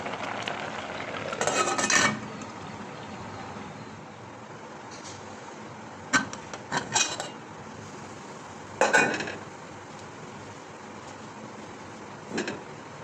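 Metal pot lid clattering onto a cooking pot of chickpeas in a home kitchen, a few sharp clanks and rattles spaced apart against quiet stove background, with no talking.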